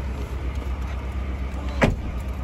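Steady low rumble of a car driving on the road toward the airport, heard from inside the cabin, with one brief louder thump or rattle near the end.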